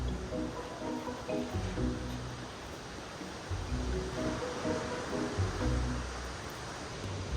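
Ocean surf washes onto a Northern California beach in a soft, continuous roar, fairly faint and distant, with gentle swells and low rumbles rising and falling.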